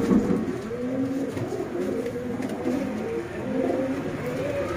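Sialkoti black-faced pigeons coo together in low, rolling murmurs, several birds overlapping in a steady soft chorus nearby.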